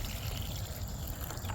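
Water poured slowly onto soil around a chestnut tree gives a soft, continuous trickle and splash, heard close and fairly faint, with no talking.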